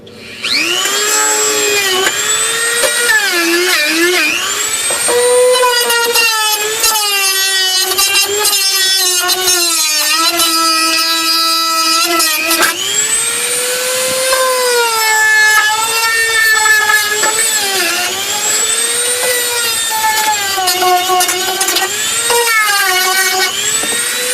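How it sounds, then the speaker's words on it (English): A Dremel rotary tool grinds burrs off metal edges with a loud, high whine that keeps rising and falling as it presses on and lifts off the metal, close up and continuous. "just Dremel all the burrs on the inside edges so that you don't have any sharp edges"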